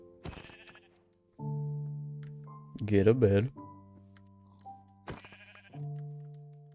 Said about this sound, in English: So I'm going to kill some sheep.